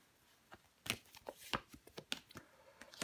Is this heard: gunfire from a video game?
no